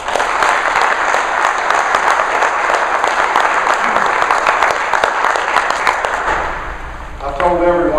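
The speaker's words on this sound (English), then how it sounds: "I just would like to give them a round of applause." Meeting audience at a quail conservation gathering gives a loud, steady round of applause lasting nearly the full stretch, fading slightly before a voice resumes at the end.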